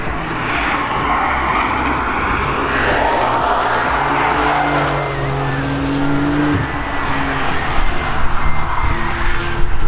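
Porsche 992.2 911 Cabriolet on a high-speed test run at the Nürburgring, its engine a loud sustained drone with rising and falling pitch as the car passes, roughening toward the end with some wind noise.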